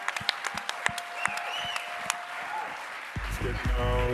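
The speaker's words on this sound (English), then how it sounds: "please give a huge round of applause" Audience applause at a corporate event, heard as scattered, sparse claps that give way to louder sound and talk near the end.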